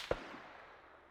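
A single sharp gunshot cracks out in Arma 3, one brief loud report followed by a fading echoing tail in an otherwise quiet moment.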